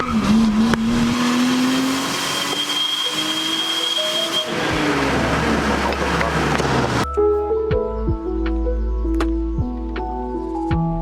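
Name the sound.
Nissan Skyline turbo car driving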